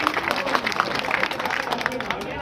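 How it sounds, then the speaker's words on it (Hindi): A crowd at a political gathering for a bank opening claps to welcome a guest, a dense, continuous patter of many hands at moderate distance with a faint murmur of voices beneath. "एक बार जोरदार ताली बजाकर इनका स्वागत किया जाए।"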